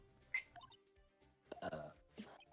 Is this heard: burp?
yes